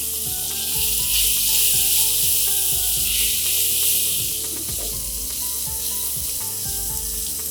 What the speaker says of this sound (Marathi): आता ह्यामध्ये आपण 1 मोठा बारीक चिरलेला कांदा घालून घेऊया.